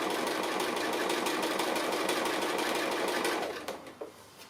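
A sewing machine stitches appliqué with a loud, rapid, even whir that runs for over three seconds, then stops. A couple of faint clicks follow in the quiet.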